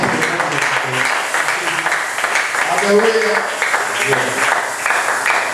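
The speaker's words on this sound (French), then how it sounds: "Applaudissez pour le prophète." A church congregation applauding during a sermon, a dense, steady wash of clapping that runs the whole time beneath voices calling out.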